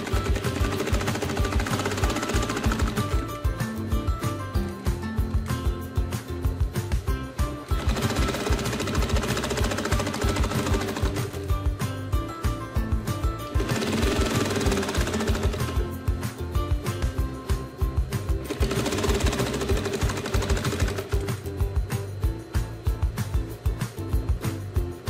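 A sewing machine stitches along a shirt collar while restoring it, running in long steady bursts of rapid mechanical chatter with brief pauses between passes, close and fairly loud.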